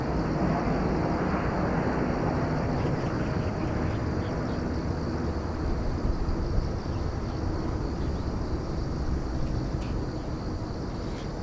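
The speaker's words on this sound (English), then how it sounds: "Central Airlines coming in from Yantai, 737-800" Central Airlines Boeing 737-800 arriving from Yantai and landing at Incheon, a constant broadband jet rush at moderate distance that stays level for the whole stretch.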